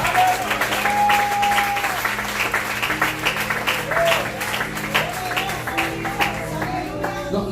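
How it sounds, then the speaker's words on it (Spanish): An evangelical church congregation applauds loudly and continuously, with sustained musical tones, likely keyboard, sounding beneath the clapping. "Dale un aplauso al Rey de la Gloria."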